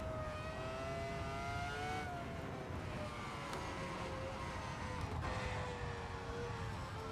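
A Skip Barber race car in a racing game at the Nürburgring, its engine droning steadily and loudly at high revs with slight pitch shifts as it changes speed, running alone with no talk.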